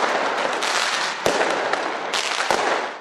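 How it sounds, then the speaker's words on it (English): New Year fireworks over Auckland, with a dense, continuous crackle and several sharp, loud bangs standing out from the roar. "Auckland became the first major city to celebrate with fireworks."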